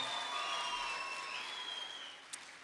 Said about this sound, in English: So a big round of applause to everyone who was in that category, ladies and gentlemen